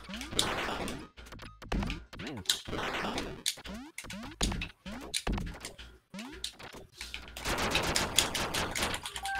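Rapid bursts of gunfire in Duck Game, a string of sharp electronic shots and clanks in irregular clusters, with a denser volley near the end, loud against a quiet game backdrop.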